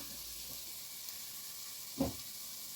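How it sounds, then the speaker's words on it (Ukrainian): Spices and vegetables frying in butter over medium heat, a steady bright sizzle with a soft stir or clink near the two-second mark, close and continuous with no talking. "Трошки обсмажую"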